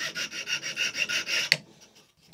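A file rasps back and forth over a wooden Opinel No. 8 knife handle made of black padouk in about eight even, gritty strokes, close up, then stops with a knock and falls quiet.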